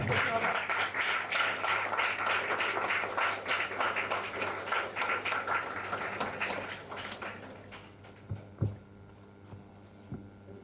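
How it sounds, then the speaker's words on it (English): A room at an annual general meeting gives a standing round of applause for the outgoing team, with dense, steady clapping that thins out and dies away into a few scattered claps and room hum. "Can we have a huge round of standing applause for the outgoing team"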